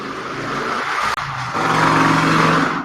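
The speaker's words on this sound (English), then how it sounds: "Oh, that motorcycle's so loud." A loud Ace motorcycle engine roars past, a steady throaty drone that briefly dips then swells again as the motorcycle goes by, with no talking.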